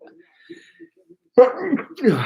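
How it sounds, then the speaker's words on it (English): A single sharp sneeze bursts out close to the microphone after a stretch of near silence, followed by a short breathy aftersound; it comes during a live boxing fight commentary. "Sorry for that sneeze."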